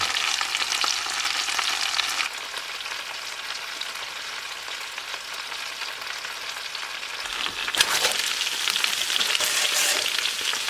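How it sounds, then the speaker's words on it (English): Potatoes fry on low heat in a covered pan at a tent cooking setup, giving a steady close sizzle and crackle, briefly louder near the end as the cover or food is shifted. "the trick to this is low heat and let it cook, because we want it to cook on low until the potatoes are soft"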